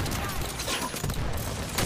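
In a shooter video game, continuous heavy gunfire fills the scene, a loud, dense fusillade with no break, while players talk under it.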